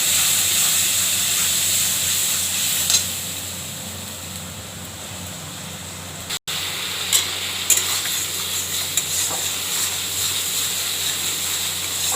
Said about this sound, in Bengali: এই যে হলুদ দিয়ে দিচ্ছে। এবার নাড়ছি